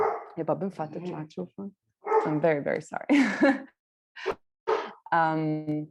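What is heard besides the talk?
dog barking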